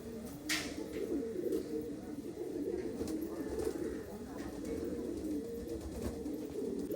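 Pigeons coo in low, rolling repeated calls throughout, close and continuous, from a shed holding young birds, with soft background noise.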